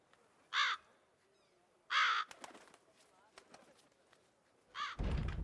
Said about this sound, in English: Oh, his crows.